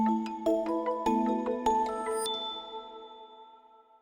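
A bright notification chime rings out as a run of quick bell-like dings stepping through tones, then a final high ding that rings on and fades slowly, alone without talk.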